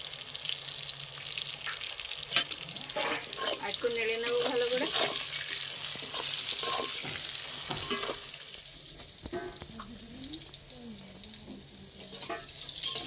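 Pieces of pointed gourd (potol) fry in hot oil, giving a continuous loud sizzle that runs for most of the stretch, then eases to a quieter crackle; a voice talks briefly over the frying.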